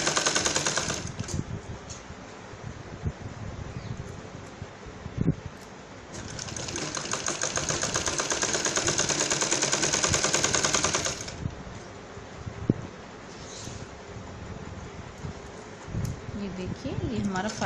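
A sewing machine runs straight stitches fastening lace along a neckline, a rapid mechanical chatter that surges loudly for a few seconds, pauses, then resumes, with quieter handling noise and a voice talking in between.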